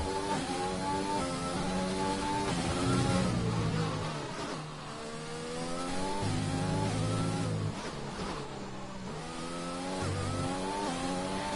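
Several race car engines in a sim racing game at the Russian Grand Prix, including a Racing Point and an Alpha Tauri on hot laps, rev and shift up and down steadily, loud and continuous.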